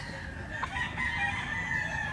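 A ten-month-old fighting rooster crows nearby at a cockfighting bird sale in Cebu, one drawn-out strained call heard against background noise.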